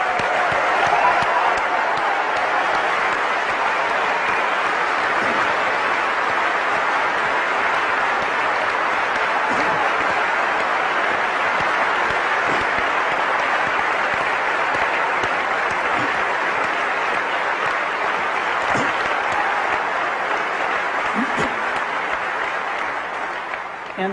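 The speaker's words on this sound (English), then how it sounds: "I want to give them a round of applause" A large keynote audience at Macworld San Francisco 2003 breaks into sustained, loud applause that fills the hall steadily for the whole stretch, with a few sharper claps and no talk over it.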